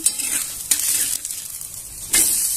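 Coriander bhakri flatbread roasts on a hot griddle with a soft sizzle, broken by scraping and clinking as it is turned over, with a sharp burst of sizzle when the fresh side lands.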